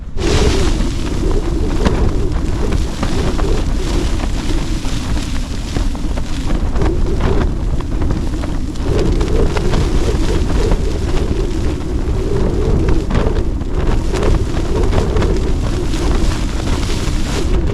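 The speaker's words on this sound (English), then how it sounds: "Definitely need those poles in this wind." Strong, steady wind buffets a snowy campsite, roaring continuously and loudly with gusty surges and heavy microphone rumble throughout.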